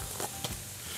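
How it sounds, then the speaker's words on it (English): Sweet, hot and sticky marinated BBQ chicken wings sizzle over direct medium heat on a grill, a steady close hiss with a few brief crackles and no voices. "I'm going to grill those wings about 5 minutes on each side, direct, medium heat, lid closed"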